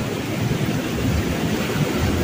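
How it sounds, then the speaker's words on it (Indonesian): The Curug waterfall at Setu Curug runs heavy with brown water, giving a steady, broadband roar that sounds continuous and moderately loud with no voices. "mari kita lihat deburan air terjun Curug"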